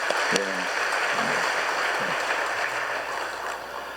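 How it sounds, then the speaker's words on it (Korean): A church congregation gives warm, sustained applause during a Sunday service, a broad wash of clapping with a brief sharp knock early on and faint voices beneath. "우리 따뜻한 위로와 격려의 박수 한번 해주시기 바랍니다"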